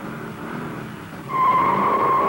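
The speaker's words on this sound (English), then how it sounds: "When we popped the clutch on our third time out of the hole, those big rubber donuts bit hard into the asphalt" A muscle car with a Hurst shifter launches hard from a standing start, its engine roar swelling suddenly and a sustained tire squeal rising over the rumble as the big tires grip the asphalt, loud and close.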